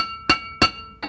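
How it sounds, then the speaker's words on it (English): A hammer strikes a 1999 Jeep Wrangler TJ front wheel hub three times in a slow rhythm, each blow a sharp, loud metallic clang with a brief ringing tail. "Hammer that, and you're going to continuously go around"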